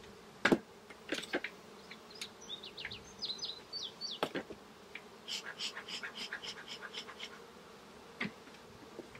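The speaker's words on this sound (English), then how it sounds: "I expect the bees to be pretty grumpy today," Honey bees buzz steadily around their hive in late summer, a close, continuous hum with sharper flybys passing the microphone and a few brief higher chirps mixed in.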